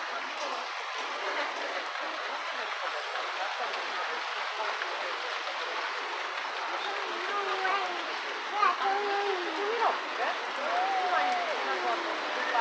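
Steady broadband hiss of heavy rain pouring continuously, with faint scattered voices and some brief higher squeaks in the background.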